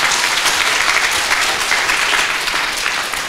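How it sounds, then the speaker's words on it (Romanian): Loud, dense applause from a concert audience at a folk music album launch show, steady and continuous throughout with no talking over it. "Și aceleași aplauze furtunoase le vreau și pentru Daciana Vlad."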